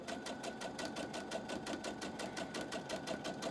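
A sewing machine runs steadily, stitching fabric for a quilt block with a quarter-inch seam, its rapid needle knock forming an even, continuous mechanical rhythm up close with no talking.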